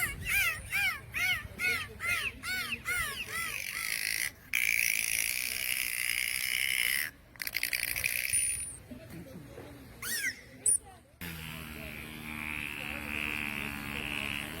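Dolphins squeak and squeal in a rapid run of high, bending chirps at the start, followed by scattered whistles and noisier bursts, with a voice talking over parts of it.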